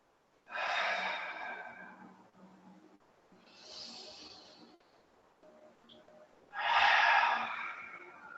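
Slow, audible yoga breathing during neck rolls in a warm-room class: three long breaths in and out, each a soft airy rush that swells and fades, with quiet pauses between.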